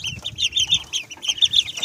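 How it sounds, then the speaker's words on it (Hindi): Chicken chicks and ducklings together in a tub give rapid, high-pitched peeping chirps in quick overlapping bursts, close to the microphone, with no speech. "आप देख सकते हैं कि बत्तख के बच्चे भी इसमें हैं और मुर्गी के चूज़े भी एक साथ हैं।"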